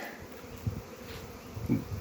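A steady buzz of many honey bees flying close by around a hive, a continuous droning hum with individual insects swelling louder as they pass.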